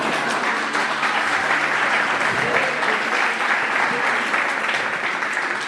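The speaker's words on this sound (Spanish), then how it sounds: "Dele un aplauso al Señor." A church congregation at a worship seminar applauds steadily, a dense, loud wash of many hands clapping that fills the whole stretch without letting up.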